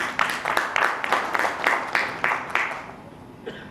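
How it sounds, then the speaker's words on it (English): Audience applause at a corporate forex event in Dhaka, a series of loud, evenly spaced clap bursts that tapers off and fades toward the end. "So I would like to have a huge round of applause for all of you."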